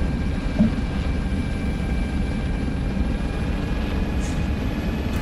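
A military helicopter in a shooter game, its rotor and engine giving a steady loud drone throughout, with no talk over it.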